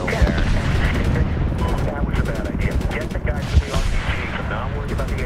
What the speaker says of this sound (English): Yeah, you're taking RPG fire.